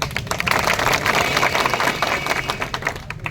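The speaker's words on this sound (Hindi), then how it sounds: "इसके लिए भी ताली एक बार।" Dense applause from a crowd of aspirants at a teacher-recruitment coaching session, steady and busy throughout with no talking, fairly loud and close.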